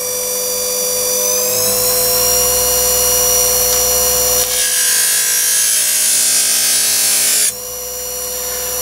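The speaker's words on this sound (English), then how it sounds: "I'll just show you the performance of the machine" A bench-vice buffing and polishing machine works a piece of darkened, rough-sawn brass, giving a steady, loud, high whining drone. The pitch shifts and gets brighter in the middle as the brass is pressed against the wheel, then it settles back.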